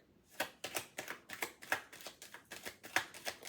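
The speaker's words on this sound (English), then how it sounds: "This is my last shuffle, and then I'm just putting it down" A deck of cards being shuffled by hand: a quick run of crisp riffling flutters and snaps, about a dozen close, fairly faint bursts in an uneven rhythm, with no voices.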